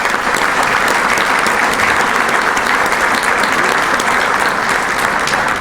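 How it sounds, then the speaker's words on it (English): Steady, dense audience applause at a veterans breakfast held by a chamber of commerce, loud and continuous with no pauses and no talk over it. "Let's have a round of applause for them."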